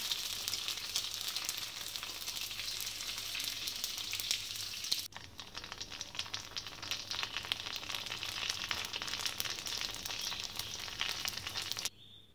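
Fuchka dough balls fry in oil with an even, soft bubbling sizzle. It drops in level midway, carries on, then cuts off near the end.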